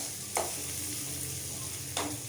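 Cowpeas, onion and spices for a Tamil cowpea kadayal sauté in a pan with a soft, steady sizzle, broken by two brief scraping stirs of a spoon.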